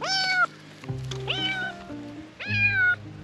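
A cat meows three times, each a drawn-out, nearby cry separated by short pauses, with faint low background hum.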